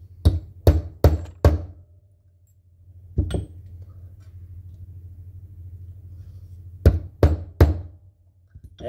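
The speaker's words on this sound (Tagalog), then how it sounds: "ganito lang ang pagtanggal niyan sa inyo ating martilyo" A hammer knocks the primer out of a snap cap dummy round: four quick sharp metallic taps, a pause, a single tap, a low rumbling lull, then three more close, loud taps.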